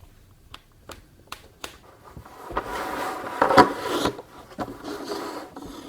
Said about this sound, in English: Closing it back up now, putting on the 4 screws that hold it, just making sure everything is tight nicely.